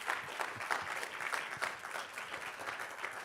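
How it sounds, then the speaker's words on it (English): Audience applause welcoming Avi at a Q&A event in Sheffield, a steady patter of clapping hands with some crowd noise, moderately loud and continuous for a few seconds with no talk over it. "So let's welcome Avi with a round of applause"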